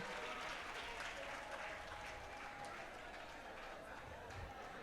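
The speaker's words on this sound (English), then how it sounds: "A resounding round of applause." An audience at a women's rights summit gives a steady round of applause, a dense, even wash of clapping that runs throughout at a faint, distant level.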